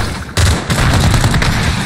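Heavy gunfire in the Modern Warfare 2019 campaign at the Gas Factory, a burst of loud, dense shots striking suddenly and continuing as rapid booming fire without a break.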